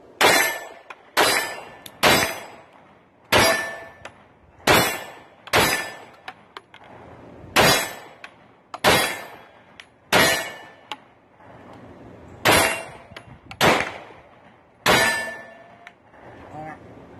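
A 9mm pistol is fired rapidly one-handed at a red steel silhouette target, giving about a dozen sharp shots in quick uneven bursts, each with a ringing metallic clang from the steel, loud and close.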